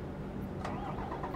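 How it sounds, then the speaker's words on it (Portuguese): A truck engine in Euro Truck Simulator cranks briefly and catches, settling into a low rumbling idle, close and moderately loud, with no voices heard. "Ah, tem que ligar o caminhão, né?"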